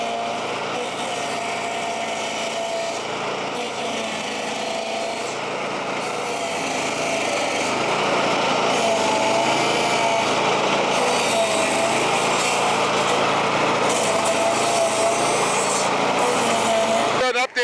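A roughly 15-horsepower stump grinder engine runs steadily while grinding a tree stump, a loud continuous high-pitched drone that grows louder partway through and holds to the end.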